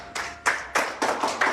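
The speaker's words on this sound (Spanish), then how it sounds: "Aplauso para eso." A few people clap sharply in an uneven rhythm, about five distinct claps close by, sounding more like sparse clapping than full applause.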